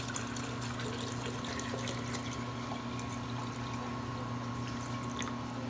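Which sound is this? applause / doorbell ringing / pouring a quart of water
pouring a quart of water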